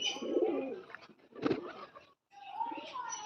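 Pigeons on a rooftop cooing and calling in short agitated bursts while a hawk chases them, the calls near and separated by brief pauses.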